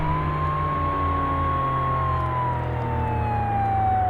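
A police car siren in a police simulator video game wails, sweeping slowly up and down, loud and continuous, over a steady engine rumble.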